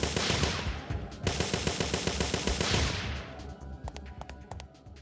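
Rapid energy weapon fire in Parasite Eve 2, a sustained automatic burst of loud shots with the trigger held down, stopping abruptly and followed by scattered sharp impact hits as the enemy goes down.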